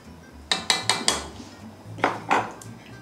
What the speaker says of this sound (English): So I'm gonna stir these in